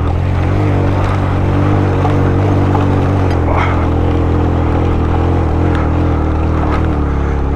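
A motorbike engine labors in first gear on a steep off-road climb in Baboon Valley, making a loud, steady, unbroken drone with rushing wind throughout.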